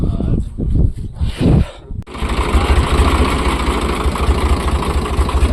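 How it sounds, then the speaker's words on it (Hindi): A tractor engine idles steadily with a loud, close, rumbling chug, preceded by a few seconds of irregular mechanical knocking and revving before it settles into a continuous drone. "ट्रैक्टर चला कर देख रहा, कह रहा मुझे चलाने दो"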